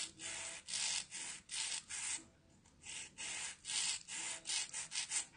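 Fingernails are filed with a 100/100 grit file in rhythmic, close, raspy strokes, about a dozen back-and-forth scrapes with brief pauses between them, and no talking.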